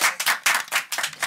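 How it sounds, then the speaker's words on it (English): Podcast guests clapping for themselves in a small room, a handful of close, distinct hand claps in an irregular quick rhythm, loud and alone. "Y'all give a round of applause for yourselves"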